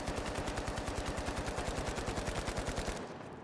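Rapid automatic AK rifle fire in a video game, a steady stream of about thirty loud, evenly spaced shots that stops abruptly near the end, with no talking.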